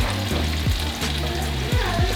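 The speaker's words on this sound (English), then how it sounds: "throw those onions and mushrooms in here and saute them in here" Onions and mushrooms sautéing in steak juices in a hot pan, a dense steady sizzle under a low hum with a few faint clicks, close and without talk.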